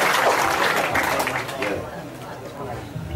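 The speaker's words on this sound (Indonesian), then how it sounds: "tepuk tangan" An audience at a gathering with a speaker gives a burst of applause that is fairly loud at first, then thins and fades over a few seconds, with murmured talk in the room.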